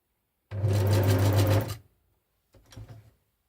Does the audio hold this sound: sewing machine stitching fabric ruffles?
yes